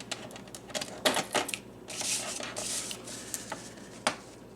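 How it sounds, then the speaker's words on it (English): Six pieces of cardstock being cut for folio pages: a run of light, irregular clicks and taps, then a couple of soft swishing strokes, all quiet and close. "To create the pages, we will need to cut 6 pieces of cardstock"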